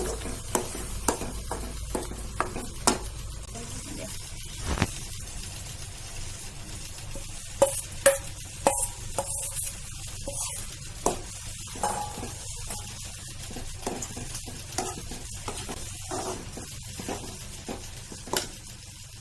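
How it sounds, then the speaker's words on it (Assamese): Ground mustard seeds with a little turmeric frying in hot oil in a wok for chilli pickle, a steady sizzle under frequent scraping and clinking of a stirring spoon, close and continuous. "এতিয়া কেৰাহীত অলপ তেল গৰম কৰি তাতে অকণমান হালধি দি এতিয়া এই পিচি লোৱা সৰিয়হখিনি তাতে ঢালি দি এতিয়া অলপ সময় লৰাই থাকিব লাগিব এইদৰে"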